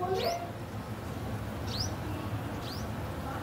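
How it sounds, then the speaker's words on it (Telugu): Three thin, high chirps from small birds come a second or so apart over a low steady background hum. "చూసినావా పిట్టలు ఎట్లా వస్తున్నాయో?"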